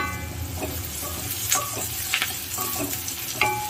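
Chopped garlic and fresh curry leaves frying in oil for a brinjal kuzhambu, an even crackling sizzle with intermittent stirring scrapes and a few louder clicks, heard close without speech.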